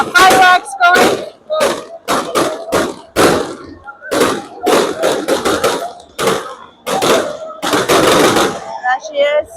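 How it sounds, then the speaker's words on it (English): Fireworks burst in rapid popping volleys at a harbour fishermen's flotilla festival, loud crackling reports coming in quick clusters and bursts while a crowd murmurs nearby. "We've got fireworks going."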